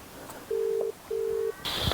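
Two long, steady ringback tones sound in succession while a phone call is placed to a friend, followed by a brief high click as the line connects.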